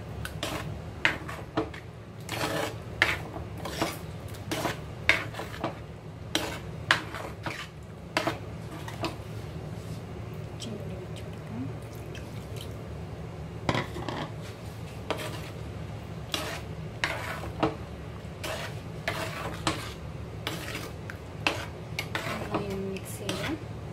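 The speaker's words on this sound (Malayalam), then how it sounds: "നന്നായി ഒന്ന് ഇളക്കി കൊടുക്കാം" A spoon stirs raw mango curry with coconut milk in a metal pot, giving repeated sharp clinks and scrapes against the pot over a low background hum, with quiet sizzling between.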